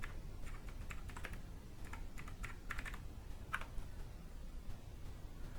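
Someone types on a computer keyboard with fairly quiet, irregular clusters of key clicks over a soft background hum, with no talking.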